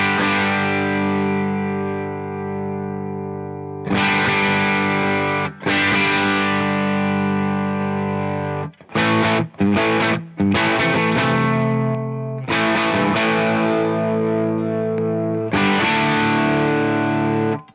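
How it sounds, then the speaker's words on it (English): Electric guitar played through a J.Rockett El Hombre overdrive pedal set to low gain, ringing out sustained overdriven chords in several bursts with brief gaps between them, loud and alone. "So the El Hombre, the gain knob goes way lower in gain, so you're almost able to get it to a unity gain type of sound."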